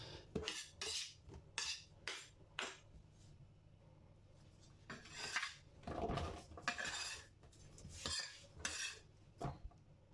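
A knife cuts through chin-chin dough on a hard board, a series of irregular close knocks and scrapes in uneven bursts with short pauses, fairly quiet and without talk.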